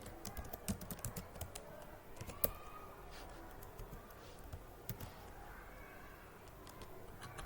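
Fingers type on a computer keyboard, a fairly quiet run of irregular key clicks with a few sharper taps, heard close and alone without speech.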